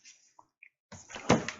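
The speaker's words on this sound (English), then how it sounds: "Let me just close this door better" A door closes in a room, a few faint taps and a small squeak before a brief scraping thud as it shuts, fairly quiet overall.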